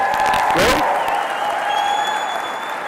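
Audience applause at a county address, a short burst of clapping from a crowd indoors, fairly loud and steady without speech.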